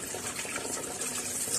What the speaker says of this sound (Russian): Можно просто включить воду